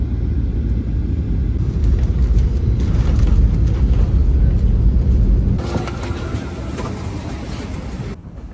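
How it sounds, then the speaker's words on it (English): A Malaysia Airlines A350 touching down, a loud continuous low rumble of the airliner on the runway that shifts and eases partway through. "before I knew it, we were touching down in Kuala Lumpur"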